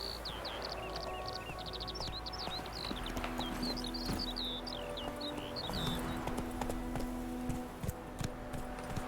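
Roach the horse trotting along a road in Witcher 3, a steady clip-clop of hooves close by with birdsong above and a low game soundscape underneath.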